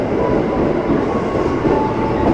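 A commuter train arriving from Tanah Abang at a station platform gives a loud, steady rumble and rolling wheel noise, continuous and close, with no voices.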